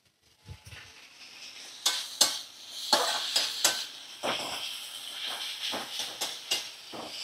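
Chopped tomato frying in a fish curry over a medium flame: soft sizzling hiss under repeated scrapes and clinks of a spoon stirring the pan, close and moderately quiet.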